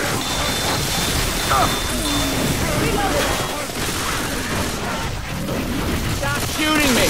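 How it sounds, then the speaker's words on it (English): Dense, continuous gunfire in Left 4 Dead 2 on Xbox 360, a busy wash of overlapping shots and game noise that runs loud throughout, with voices talking over it. "Stop shooting me."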